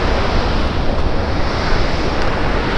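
Water of Victoria Falls thunders over the full length of the falls, heard from the bridge between Zambia and Zimbabwe as a steady, loud, broad roar mixed with wind buffeting the microphone.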